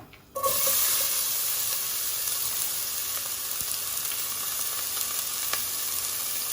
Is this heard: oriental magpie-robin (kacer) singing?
no